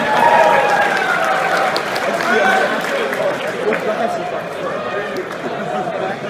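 Crowd applause at a Buddyfight card game tournament event in Houston, a steady wash of clapping and chatter that continues evenly throughout.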